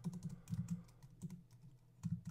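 Typing on a computer keyboard behind a large desk microphone, with soft irregular key taps in bursts and brief pauses, close and fairly quiet.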